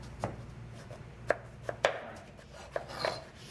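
A knife chops sweet potato into planks for fries on a cutting board, with about six distinct, sharp, close knife strikes at uneven intervals in a quiet room.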